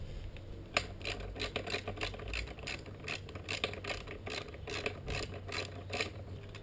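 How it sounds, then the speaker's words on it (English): A wrench works the bolt under the kick starter of a 1979 Yamaha YZ400 dirt bike, giving repeated close metallic ratcheting clicks and scraping in an irregular rhythm, with no voice. "remove the bolt right here under the kit starter."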